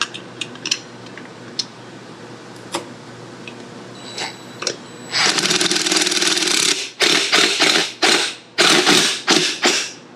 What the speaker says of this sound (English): See if I can hold it up here and put a wrench on the back side.